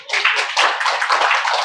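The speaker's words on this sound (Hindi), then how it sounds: "एक बार बजाओ ताली।" An audience claps on request at a talk, a short burst of dense, overlapping hand claps heard alone and fairly close.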